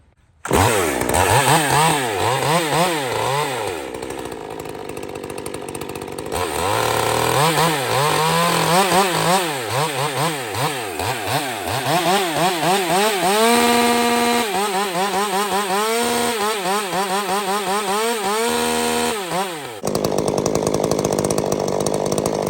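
Two ported chainsaws roar close and loud, revving up and down in rapid, wavering sweeps. One keeps running almost without a break while the throttle climbs and drops.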